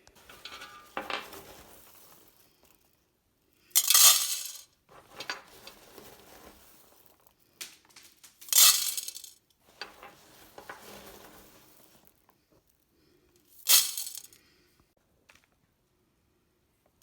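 Gravel is poured into a larger plant pot during houseplant repotting for a Schefflera, giving three loud rattling pours with softer scattered clatters and quiet pauses between them.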